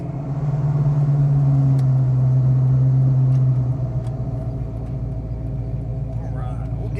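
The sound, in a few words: 1994 Ford Cobra 5.0 five-speed driving on test drive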